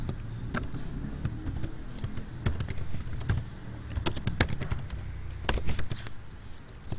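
Keys clatter on a computer keyboard as someone types C code in a code editor, an uneven run of light taps and clicks over a low background hum, fairly close and steady for several seconds with no voices.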